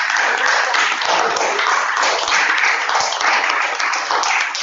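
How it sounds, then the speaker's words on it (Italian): Applause from an audience at a Soil Hub gathering, a steady dense wash of clapping that carries on at even loudness throughout. "E quindi davvero vi ringrazio e farei un bel applauso."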